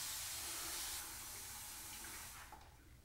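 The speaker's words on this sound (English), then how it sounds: "let me spray some water on my hair" A spray bottle hisses water onto hair, loud at first and then a bit softer, with a short burst near the end.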